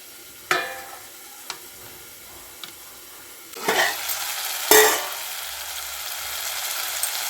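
Sharp scraping clatters of a spatula in a pan over quiet cooking, followed by brief bursts of loud sizzling as tomato pieces hit hot oil.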